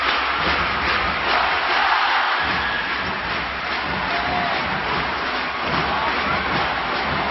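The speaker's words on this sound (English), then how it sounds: "Listen to this LaSalle crowd." Roaring basketball arena crowd at a college playoff game, loud and sustained with yells rising over the din throughout.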